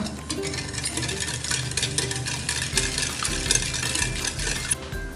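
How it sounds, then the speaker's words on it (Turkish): A wire whisk stirs lukewarm water and sugar in a bowl, a steady scraping, swishing rhythm close by, with faint clinks against the bowl and no talking. "Ve çırpma teliyle şöyle bir karıştıracağım."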